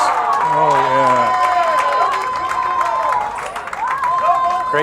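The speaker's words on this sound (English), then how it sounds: "And the crowd is loving it." Crowd at a bowling alley cheering and applauding loudly for a good shot, steady dense clapping and cheers throughout, with an announcer talking over it.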